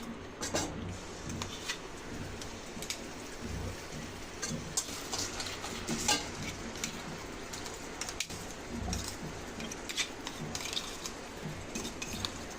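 Ground spice paste tipped into hot tempering for vada pav filling, hissing and crackling steadily with scattered sharp pops and a few louder stirring bursts, close and unbroken, no voices.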